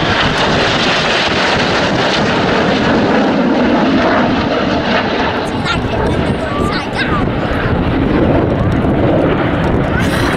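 Red Arrows jets fly the corkscrew manoeuvre at an RAF Cosford air show, a loud continuous jet roar with wind buffeting, and a commentator talks over it.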